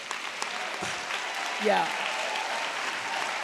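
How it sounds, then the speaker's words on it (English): Audience applause in a talk-show studio, a steady even wash of clapping at moderate level, with a brief spoken voice and a short exclamation rising above it. "I think that deserves a big hand clap."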